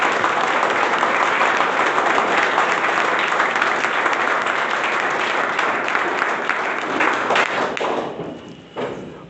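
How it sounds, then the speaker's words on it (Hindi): An academy audience claps loudly in honour of farmers, a dense, sustained wall of applause that tapers off near the end. "एक बार जोर से तालियां बजा।"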